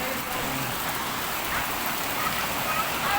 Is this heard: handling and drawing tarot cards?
no